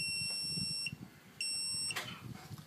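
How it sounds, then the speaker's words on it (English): A keyless entry door lock gives a few high electronic beeps after fresh batteries go in: two long steady tones, each roughly half a second, separated by a short gap, then a brief chirp, all clear and close. "You'll hear a few beeps."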